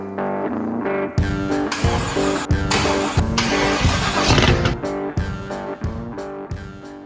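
A 500 HP LS 6.0 V8 in an off-road vehicle cranks and catches, then runs in loud, uneven surges and revs, close up with repeated sharp bursts.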